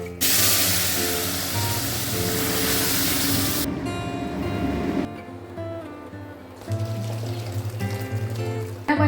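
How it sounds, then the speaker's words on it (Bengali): Dry red chillies, mustard seeds and bay leaves tempered in hot oil for a drumstick and tomato dal: a loud, close burst of sizzling hiss and spitting crackle, then a quieter settled frying sizzle that swells again toward the end. "আমরা এটাকে ফোড়ন দিচ্ছি মানে টেম্পার করছি শুকনো লঙ্কা সর্ষে আর তেজপাতা দিয়ে"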